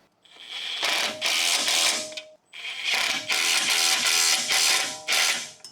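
A ratchet wrench tightening the front shock nuts on a second-generation Ford Ranger: two bursts of rapid, close clicking, each with several quick strokes separated by short pauses.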